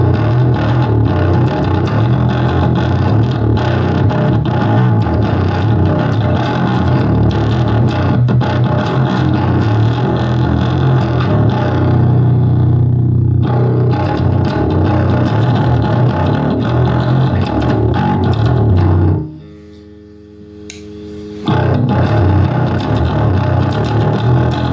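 Thick, distorted bass guitar through a Joyo Ultimate Drive overdrive pedal, gain turned up and reverb off, chugs steadily and loudly, drops out briefly near the end, then returns.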